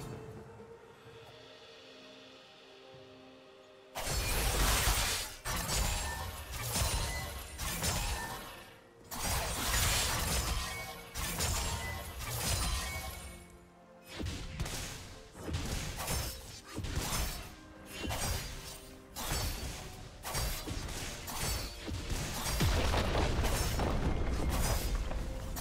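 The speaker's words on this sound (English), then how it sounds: "Team's turret has been destroyed." Combat in League of Legends during a Zed versus Katarina mid-lane match ending in a turret being destroyed: repeated heavy booms, shattering crashes and whooshes in dense irregular bursts after a quieter start, loud and up close.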